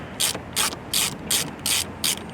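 A hand ratchet fitted with a 10mm socket clicks through six even, crisp strokes while backing out screws on a BMW M340i or 330i, close and clear with no voices.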